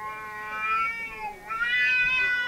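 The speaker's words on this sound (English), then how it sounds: "These people came home smelling like a cat that their cat absolutely hates." A domestic cat reacts to its owners, who come home smelling of another cat it hates, with two long, drawn-out yowling meows, close and insistent, with no talking.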